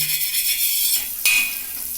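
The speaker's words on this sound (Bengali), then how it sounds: "বাটারটা একটু গরম হওয়ার জন্য আমি পাউরুটিগুলো দিয়ে দিচ্ছি" Bread slices dropped into hot melted butter in a frying pan while making a burger, giving a steady, close bright sizzle with a brief clatter partway through; no one speaks.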